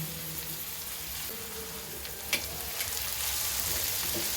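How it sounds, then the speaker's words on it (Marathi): Chopped tomatoes and green chili fry in a pan with a soft, continuous sizzle and faint stirring clicks, fairly quiet and close, with no talk. "टोमॅटो छान परतून घेऊया आता यात आपण यामध्ये हिरवी मिरची घालूया"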